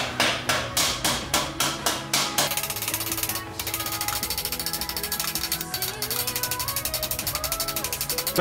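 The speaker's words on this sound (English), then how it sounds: "now I'm putting in the final rivets" Hammer blows ring out while rivets are set into a medieval close helmet, first as a quick, even series of sharp metallic strikes, then as a dense, rapid train of clanking hits, loud and close with no talk.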